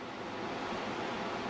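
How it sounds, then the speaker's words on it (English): Ocean waves break onto a beach just after sunset, a steady, full wash of surf that roars continuously without pause, close and fairly loud, with some wind mixed in and no voices. "I'm looking at waves traveling in towards the beach"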